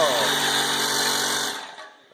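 A homemade cage blower for an oil burner pushes out a strong, steady rush of air with a whining rotor tone, loud and close, then winds down over the final half second.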